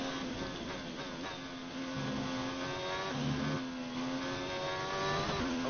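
Formula 1 car engine at Monza in a racing video game, a steady high-pitched engine whine rising and shifting through gears, continuous and fairly quiet with no talk.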